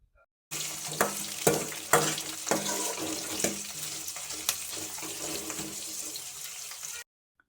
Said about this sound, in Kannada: ಒಣಮೆಣಸಿನಕಾಯಿ ಈರುಳ್ಳಿ ಇಷ್ಟನ್ನು ಹಾಕ್ಕೊಂಡು ಚೆನ್ನಾಗಿ ಈರುಳ್ಳಿ ಕೆಂಪಗಾಗೋವರೆಗೂ ಸ್ವಲ್ಪ ಫ್ರೈ ಮಾಡ್ಕೊಳ್ಳಿ